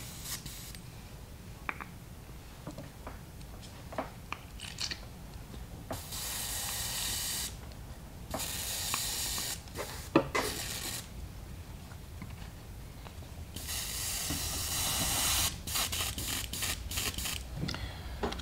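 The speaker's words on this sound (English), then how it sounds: "I'll give the airbrush a quick rinse." An airbrush is rinsed out between paint colors in several bursts of close, hissing spray, with short quiet gaps and small clicks between the blasts.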